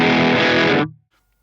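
A loud, thick overdriven electric guitar chord, pushed by a boost pedal into overdrive on a POD Go, rings briefly and is abruptly cut off, leaving near silence.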